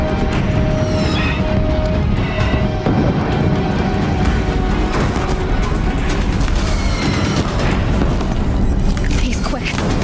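Deathbringer war machines firing in the video game Horizon Zero Dawn: heavy, repeated booms and crashes pounding through a dense, unbroken roar of battle noise, loud and close throughout.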